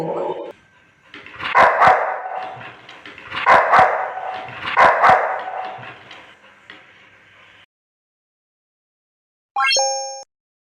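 A dog barks in three loud, close bursts, growling and snarling between them. After a pause, a short electronic chime closes the clip.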